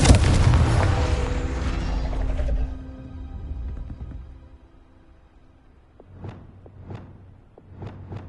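A Confringo fire spell from Hogwarts Legacy bursts loudly up front, a dense explosive blast that rumbles and fades over a few seconds, followed by several short sharp magical pops spaced apart.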